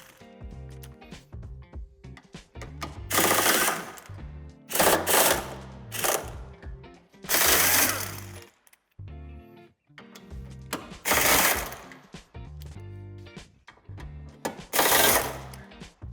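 Bolts holding the bumper bar on a 2016-or-later Toyota Proace II van are loosened with a power tool. Loud, rattling mechanical bursts of a second or two repeat about seven times, with short pauses between them.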